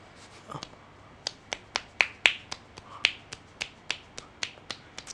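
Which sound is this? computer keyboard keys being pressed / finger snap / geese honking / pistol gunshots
finger snap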